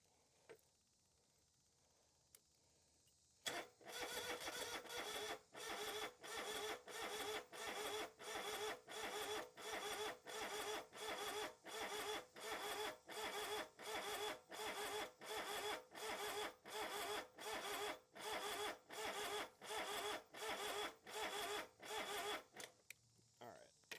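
A John Deere 2653A mower engine cranks over and over without catching, a fast rhythmic churning starter that runs in repeated bursts with short gaps, loud and close after a quiet start.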